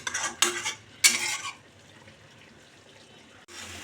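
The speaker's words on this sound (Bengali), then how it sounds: "আরেকবার ভালো করে নেড়ে নেব" A spoon stirs a pan of curry with green chilli, giving two or three short, bright scraping bursts in the first second and a half, then near-quiet kitchen background before a brief final scrape.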